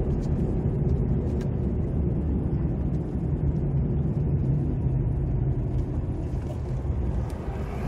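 A Porsche car on a road, a steady low engine rumble and road noise that stays loud and close throughout without clearly fading.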